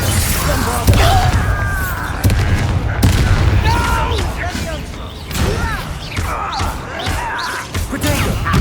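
Bombarda spell explosions in the Hogwarts Legacy video game go off amid a dense fight, with repeated booms and crashing impacts layered over other combat noise and scattered voices.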